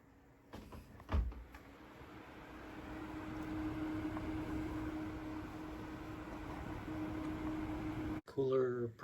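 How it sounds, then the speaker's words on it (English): A single fan on a Noctua NH-U12A CPU cooler runs with a steady airy whoosh and faint tonal hum, rising slightly as it spins up, with a brief click early on and a voice at the end. "One fan radiator noise."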